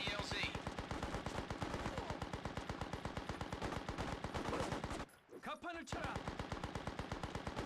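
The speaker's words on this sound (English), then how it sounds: "I am taking enemy fire" Rapid, sustained automatic gunfire from enemies in the Xbox game Mercenaries: Playground of Destruction, a dense loud stream of shots that breaks off for about a second before resuming.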